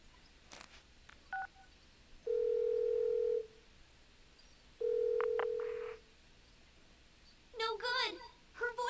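A phone call in Persona 4 Golden rings out: two long, steady electronic ring tones separated by a pause, with short dialing beeps before them and brief game chatter afterward.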